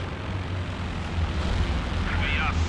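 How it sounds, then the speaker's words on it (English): Attacking planes in Company of Heroes 2 drone overhead with a dense rumbling roar beneath battlefield noise, and a brief higher whine cuts through near the end. "And here come the planes."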